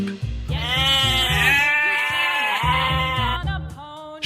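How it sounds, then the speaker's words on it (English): A sheep bleats in one long, wavering cry lasting several seconds, close and clear over a steady background music track. "Sheep."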